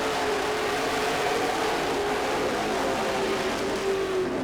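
Race cars run nose to tail down the backstretch of a short track, a loud continuous engine drone with a faint rising and falling whine, heard from trackside without pause.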